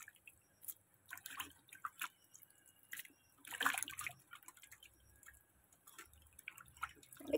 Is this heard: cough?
no